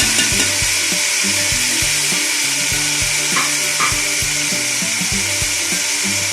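Mutton frying in a large pot for degi mutton biryani, a steady loud sizzle with repeated scraping and stirring knocks throughout, no voices.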